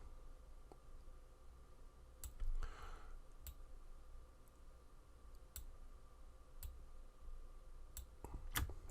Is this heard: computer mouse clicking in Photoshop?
yes